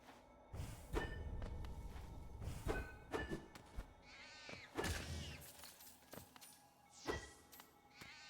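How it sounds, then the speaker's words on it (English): A hissing, yowling creature screech from the Hollow Knight video game, several harsh bursts with thuds and in-game effects between them, moderately loud against quiet background. "Sounds like an angry cat screech."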